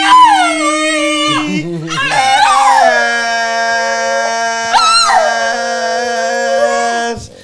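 A puppy howls in long, wavering, sustained cries across several breaths, loud and close, with rising and falling pitch and a brief break midway.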